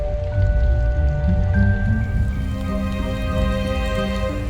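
Steady rain falls in a scene from the video game Nancy Drew: Midnight in Salem, a continuous wash of patter beneath sustained musical tones, with no talking.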